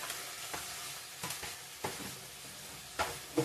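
Ground cumin, coriander and chilli powder sizzling as they are sautéed in a pan, a soft continuous frying hiss broken by several scraping stirs, close and quiet, with no talking.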